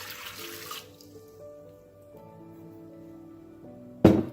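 About 200 grams of water is poured into the bottom of a bread machine pan in a brief splashing rush, followed by soft background music and a sudden clatter.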